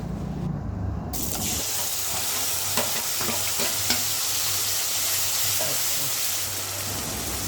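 Ground spice paste fries in oil in a pot for a spicy goat intestine dish, giving a dense, steady sizzle with a few light stirring clicks, close and continuous without talk.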